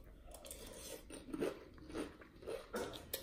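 Quiet, close crunching of Honey Nut Frosted Flakes corn cereal while being chewed, a few separate bites and chews spaced about half a second apart.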